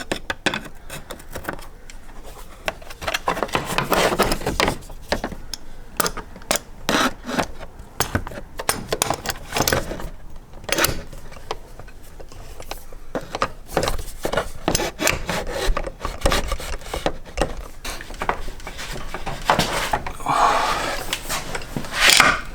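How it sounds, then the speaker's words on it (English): A spanner working the reverse-thread viscous fan off a BMW E46 M3's S54 engine, with dense metallic rubbing, scraping and ratcheting clicks in irregular bursts, close and continuous with no voices. "turning the spanner the reverse thread direction to try and spin off that viscous fan"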